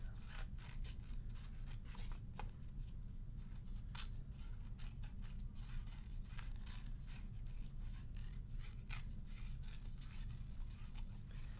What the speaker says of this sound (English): And you just keep going around that spiral, moving your scissors slowly.